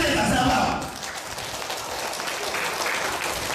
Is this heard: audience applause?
yes